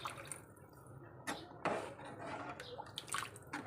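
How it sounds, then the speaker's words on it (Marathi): Water is poured into a cooking pan of Malvani-style white vatana usal. The pours come as soft, fairly faint splashes and trickles in a few uneven bursts, with quiet kitchen clatter underneath. "आपण थोडं अजून पाणी ह्याच्यामध्ये ॲड करू।"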